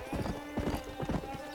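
Horse hooves clip-clop in a steady, close rhythm on the ground in the Red Dead Redemption video game, with brief whinnies and a voice speaking over the steps.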